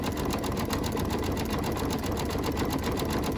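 An embroidery machine stitches through several layers of jean material, a steady, dense mechanical whir with fine rapid needle ticking that runs close and unbroken throughout.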